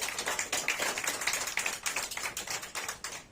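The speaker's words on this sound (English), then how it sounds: "Big round of applause." Scattered applause from a smaller group, quick individual claps pattering unevenly and fairly faint, continuing throughout.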